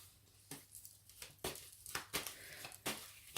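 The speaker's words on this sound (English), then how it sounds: "as I'm shuffling the cards" Tarot cards shuffled by hand at a table, heard as a series of crisp papery riffles and slaps in quick irregular bursts, close and fairly quiet with no talking.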